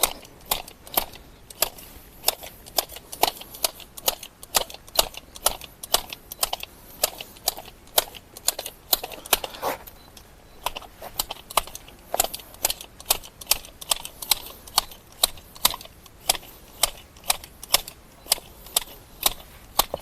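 Telescopic shears clipping rapidly, with quick, crisp snipping clicks in a steady, dense rhythm throughout, close and without talk.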